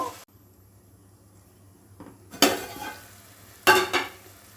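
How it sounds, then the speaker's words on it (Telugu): Sautéed onions being stirred in a pan for a taro curry with curry leaves, quiet sizzling broken by two loud spoon-scraping bursts against the pan, close and clear. "మామూలుగా ఇలా తిప్పేసుకుని చామంప ముక్కలు వేసేస్తానమాట"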